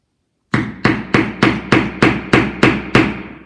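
Nine sharp, evenly spaced hammer strikes punching holes into a bottle lid on a table, close and loud, each with a brief ringing decay, after a moment of silence.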